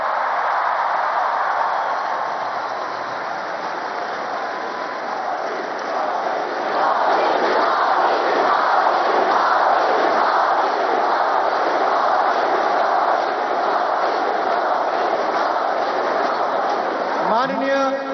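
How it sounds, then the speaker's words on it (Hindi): A large crowd at a youth festival in Nashik chants and cheers for Modi, a sustained, loud, dense roar with a rhythmic pulsing chant that swells in the middle and carries on steadily to the end. "ये मोदी मोदी की गूंज आज भारत में नहीं, दुनिया के कोने कोने में है।"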